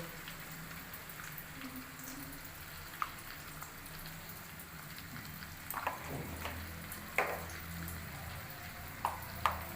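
Chicken and potatoes fry in a pan, giving a steady soft sizzle with light scraping and a few stirring clinks near the end, fairly quiet and without talk.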